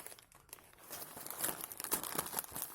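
Plastic packaging around a thermostat is torn open by hand, giving a close, busy run of crinkling and ripping that grows denser and louder toward the end.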